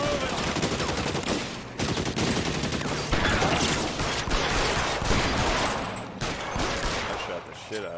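Rapid automatic gunfire in a video game, loud, dense bursts of shots running almost without pause, with a few brief dips between volleys.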